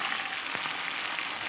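Green peas hit hot spice paste in a pan for a white potato dum, giving a steady, bright sizzling hiss with a faint stir or clink in the middle, close and continuous.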